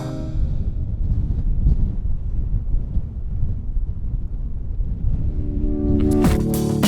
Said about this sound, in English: How about that wind, Clint? It's a little bit breezy out here today